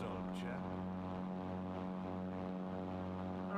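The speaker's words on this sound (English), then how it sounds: "I don't know what that engine noise is, but that's really weird." A propeller plane's engine drones steadily in Crimson Skies, a constant tonal hum with strong harmonics holding at an even level throughout, with no voices over it.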